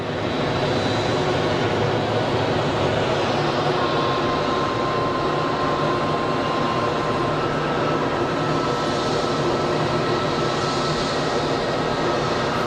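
An Airbus A319 airliner at Geneva Airport produces a loud, continuous engine roar with a steady whine, close and constant across the whole stretch, with no speech.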